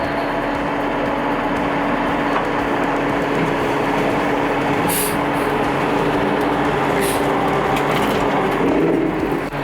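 A Galbreath U5-OR-174 roll-off truck hoist drags a container up onto the truck bed, producing a steady, loud grinding and rumbling with a sustained hydraulic whine and occasional metallic clanks.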